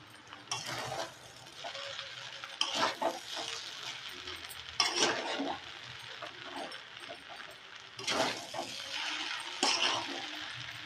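Vegetable Maggi noodles are stirred in a pan with repeated scraping, clattering strokes over a faint sizzle, the strokes arriving in uneven clusters.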